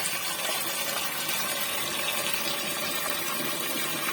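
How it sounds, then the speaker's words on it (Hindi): Water pours steadily into a pot of boiled potatoes in a home kitchen, a continuous even rushing splash lasting the whole moment with no voices. "आलू में डाल देंगे पानी।"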